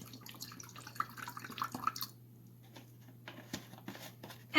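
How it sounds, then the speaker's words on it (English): Apple cider vinegar poured into a vinaigrette in a kitchen, a faint thin trickle and splash lasting about two seconds, quiet and close, followed by scattered small drips. "Vinegar, pour in some apple cider vinegar,"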